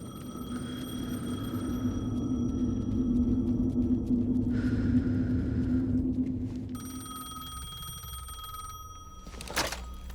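A telephone rings in the video game Alan Wake 2, a steady electronic ring tone repeating over a low droning ambient rumble, fairly loud and close, then cutting off with a short click near the end.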